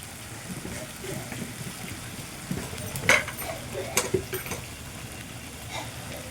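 Catla fish curry ingredients with cumin, turmeric and salt are stirred in a pan, giving soft scraping and a few sharper utensil knocks against the metal over a low, steady kitchen background.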